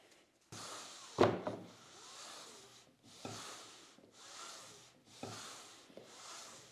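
A shop-built wooden crosscut sled glides back and forth across a waxed cast-iron table saw top, giving four or five soft, rubbing slides, each a few seconds apart, with a knock early on.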